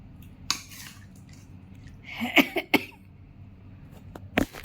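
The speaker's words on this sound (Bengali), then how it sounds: "তবে হালকা কাশি এখনও আছে" A woman recovering after an operation gives a few short, light coughs, one pair close together and another a moment later, amid quiet kitchen clinks.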